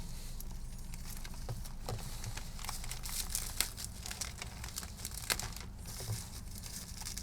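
Crinkly plastic wrapping on a special-edition Kagurabachi manga being cut open, a steady close run of crumpling and tearing rustles with sharp snips and crackles throughout, no voices.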